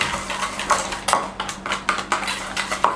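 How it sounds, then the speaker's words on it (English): A whisk clicks and taps rhythmically against a bowl while sugar is beaten into egg yolk, making quick, light, repeated metallic strokes close by. "goes into your egg yolk, and you whisk it till the granules are weakened or completely broken out."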